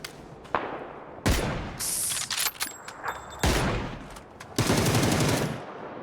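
Close, loud gunshots from the battle-royale game PUBG crack out in several sharp bursts, some rapid like automatic fire, spread across a few seconds with short pauses between volleys.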